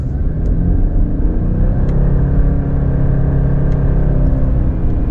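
A 2026 Subaru Crosstrek Hybrid accelerates in manual mode with simulated gear shifts, a continuous engine drone heard from close by, steady and fairly loud, with faint tonal steps as it climbs.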